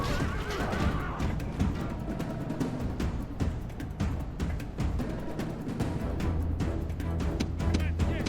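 Cavalry charging in a Total War: Rome Remastered battle: horses whinny over dense, continuous hoofbeats and clashing battle din, loud throughout with no talk.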